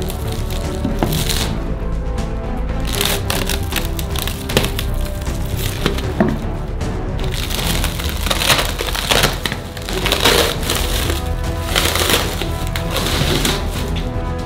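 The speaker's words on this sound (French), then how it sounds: "On n'a plus besoin des parois en bois, alors on les enlève" Wooden walls being pried off a chocolate mould, giving close, loud irregular cracking, creaking and splintering with scraping in between, no talk.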